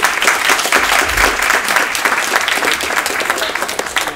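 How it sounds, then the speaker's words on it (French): An audience at a public science talk breaks into loud, steady applause that holds at full strength the whole time. "Je pense qu'on peut l'applaudir"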